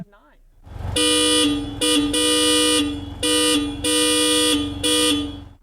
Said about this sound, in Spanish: así suena la bocina de un Porsche 959